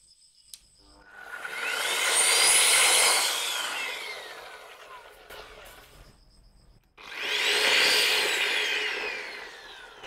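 A handheld wall sander motor with soft start whines up to a high pitched, rising spin, winds down, then starts again after a short pause; loud and close, no talking.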